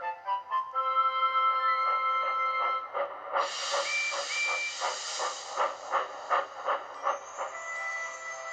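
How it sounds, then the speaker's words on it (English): A steam locomotive chuffs in a steady rhythm while a harmonic whistle toots long and high over it, then sounds again near the end. "they tooted their best friend's whistle for everyone to hear"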